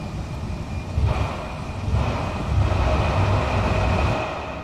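A train in Train Sim Classic on the Edinburgh to London Kings Cross route rumbles with a steady, loud low drone and a faint high whine, swelling slightly midway with no voices.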